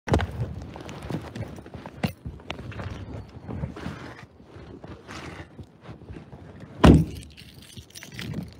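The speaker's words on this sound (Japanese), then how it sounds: "鍵閉めた、ちゃんと。" Keys jangle and clink faintly while a lock is fastened outdoors, followed by one loud, sharp metallic clack near the end.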